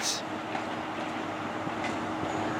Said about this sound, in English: A high-speed train is pulling into Weymouth.